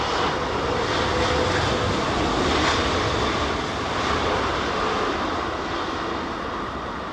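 A steady, broad aircraft engine roar at Heathrow airport during Storm Isha, continuous and fairly loud for several seconds with a slight fade toward the end and no voices.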